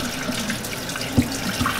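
Steady water pours from a tap during an apple cider vinegar rinse over hair, a close, continuous splashing rush with a few brief drips and no voices.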